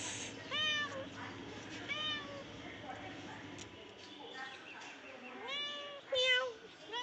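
A pet cat meows repeatedly at moderate distance, several rising and falling calls spaced through the clip, while a person talks quietly in between.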